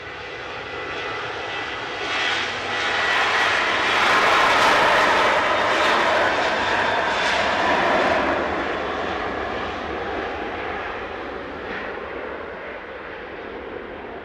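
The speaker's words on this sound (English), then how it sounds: "Jet 2 heading off." A Jet2 passenger jet takes off at Manchester Airport, its engines building to a broad, steady roar that swells to a peak and then slowly fades as it climbs away, loud and continuous with no talk over it.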